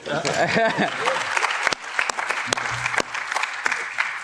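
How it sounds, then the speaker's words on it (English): An audience at a fisheries policy event claps for the presenting team, a moderately loud spread of applause with a few sharper individual claps, briefly overlapping some voices at the start. "Let's clap for them."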